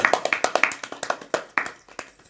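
Women in an audience at a Suva folk-dance gathering clap their hands in loose, irregular bursts, with sharp close claps that gradually thin out and fade.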